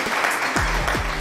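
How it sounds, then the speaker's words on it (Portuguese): A brief burst of applause, steady and moderately loud, with a voice sounding over it. "Aplausos, aplausos."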